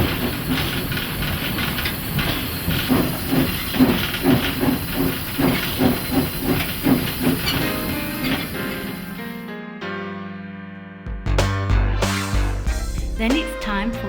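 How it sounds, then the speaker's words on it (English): A South African Railways Class 15F steam locomotive at Germiston steam depot hisses loudly with rhythmic chuffing bursts of steam, then quiets before sharp clanking and mechanical knocks follow. "firing up the mighty Class 15F and making sure the right steam pressure has been generated"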